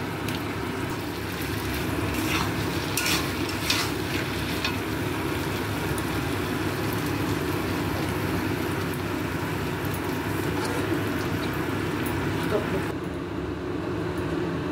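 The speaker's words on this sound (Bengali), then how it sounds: "ব্যাস, এবার আমি পুরোটাকে ভালো করে মিশিয়ে নেব।" Soy sauce, vinegar and fried rice ingredients are mixed in a hot pan, producing a steady close sizzle with scraping stirs and a few light clatters near the start, under a constant low hum.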